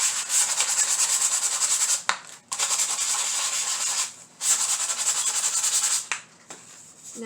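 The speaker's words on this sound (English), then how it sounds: "Take your sandpaper, and where those staplers were, just sand it down." Sandpaper rubbed steadily over a wooden craft stick, a close, loud, continuous scratchy rasp in long strokes broken by a few brief pauses.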